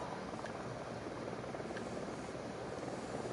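A helicopter in a PS4 video game makes a steady, dense rotor-and-engine drone that fills the whole stretch at an even level, with no talking.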